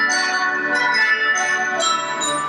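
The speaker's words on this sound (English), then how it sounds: "it's the tubular bells that tend to stand out in this particular case here" Tubular bells ring out in an orchestral passage, bright sustained metallic tones with several struck attacks layered over a rich, lingering orchestral texture.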